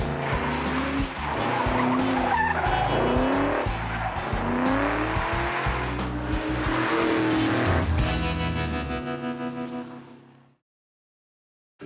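A 2004 Ford Mustang GT V8 spins through reverse 180s, engine revving hard under long squealing tire skids for several seconds, loud and close, before the revs drop and it cuts off.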